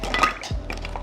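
A quick clatter of ice cubes dropping into a glass, short bright clinks over a low background hum.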